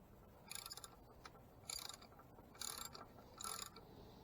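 A ratchet wrench tightening an oil filter canister on a 2020 Chrysler Pacifica: four short bursts of rapid clicking, close and clear, separated by brief pauses with no talk.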